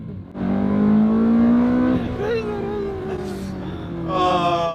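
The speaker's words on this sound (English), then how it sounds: "if you think that exhaust is a success too" A Ferrari 360 Spider's repaired exhaust revs hard, the engine note rising to a loud blare, dropping, then sharply revving again, close up; a voice exclaims over it near the end.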